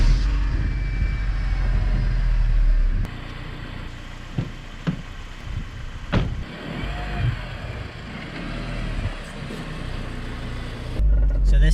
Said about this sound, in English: I think it's about time we start it up and go for a bit of a drive